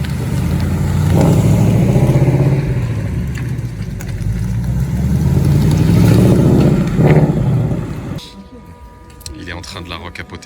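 A naturally aspirated Aston Martin V12 growls loudly nearby with a deep, sustained roar that swells twice, then cuts off sharply, leaving quieter background noise.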